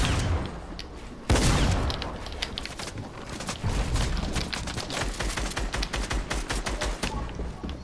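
Heavy gunfire in Fortnite: a big blast followed by fast, continuous automatic shooting that rattles on loudly for several seconds, with no voice clearly heard over it.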